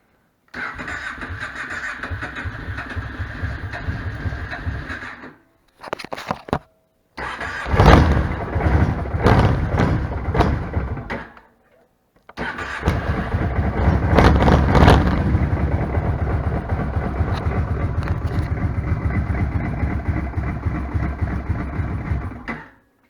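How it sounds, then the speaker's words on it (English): Kawasaki Prairie 700 ATV engine running after a carburetor reinstall, loud and close, a steady idle broken by brief cut-outs and restarts, then a sustained rough idle. "I need to adjust the idle a little bit on this."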